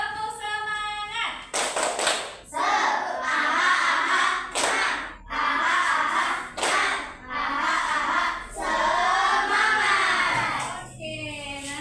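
A group in a classroom does a rhythmic Indonesian spirit clap, with loud bursts of many hands clapping in patterned sets, separated by short pauses and mixed with chanting voices.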